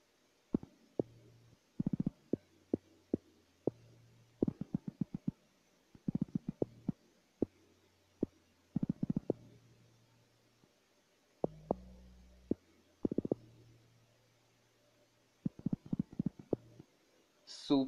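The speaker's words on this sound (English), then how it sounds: "Second log drum pattern 2, where I go extremely crazy." An amapiano log drum pattern programmed in Caustic 3 thumps out deep, booming bass hits in a busy, syncopated rhythm with sharp percussive clicks, short gaps breaking up the groove, loud and close with no voices.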